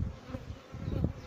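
Honeybees buzzing at an apiary while honey supers are being removed in late June, a steady close drone of many bees that swells and fades.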